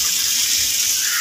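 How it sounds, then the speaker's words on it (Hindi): Tap water runs steadily into a kitchen sink as something is rinsed under it, a close, continuous gushing hiss with no talking. "अभी मैं धो लेती हूँ"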